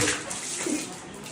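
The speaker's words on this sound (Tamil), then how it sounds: "தண்ணி ஊத்துங்க." Water is poured out in a village setting, a steady close splashing gush lasting about a second and a half, with no talk over it.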